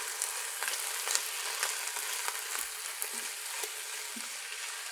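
Vegetables sizzle in a hot pan while stir-frying for veggie shrimp fried rice. Steady, close hissing crackle with small pops runs throughout and no speech.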